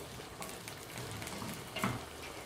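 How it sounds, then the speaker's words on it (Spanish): Chiles, garlic and onion fry in a pan on the stove, a soft continuous sizzle with occasional brief stirring scrapes, low and close. "Voy a dejar primero sofreír un poco esto"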